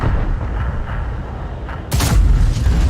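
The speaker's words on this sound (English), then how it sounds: "155mm. It's going to wipe you out." A 155mm tank gun fires once in a tank video game, a single heavy close boom cutting sharply through a steady low engine rumble.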